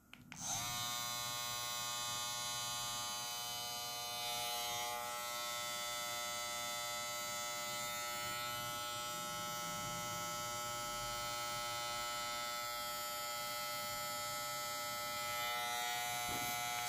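A Madeshow M11 electric hair trimmer switched on and running, a steady close buzzing whine with a sharp start that holds unbroken for the whole stretch, no voices.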